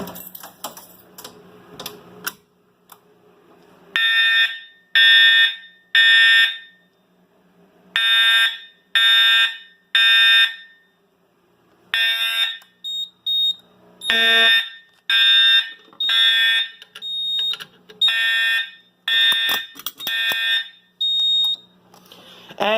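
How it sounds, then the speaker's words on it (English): Two-wire remote fire alarm horn on a FireShield system test, sounding in loud repeated bursts of harsh tonal blasts with short gaps, starting after a few seconds of quieter handling noise and continuing steadily. "since that's a 2-wire remote horn, it will stay in, it's going to keep going into alarm"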